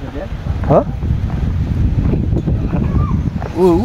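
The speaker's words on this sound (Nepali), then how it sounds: "झरनाको आवाज चाहिँ सुनिया छ" Phung Phung waterfall near Ranipauwa in Nuwakot rushes as a steady broadband roar, with brief voices and a few whistly tones surfacing over the continuous wash.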